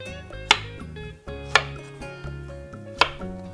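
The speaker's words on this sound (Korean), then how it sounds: "이렇게 툭툭 썰어요. 자, 이거 그냥 4분의 1로 잘라주세요." A knife chops a zucchini into quarters on a cutting board, three crisp loud thuds spaced about a second apart, close up with quieter handling sounds between.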